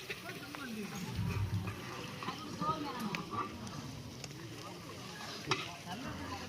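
Masala onion gravy being stirred in a pan, a continuous scraping and churning with a faint sizzle underneath, while voices talk over it throughout.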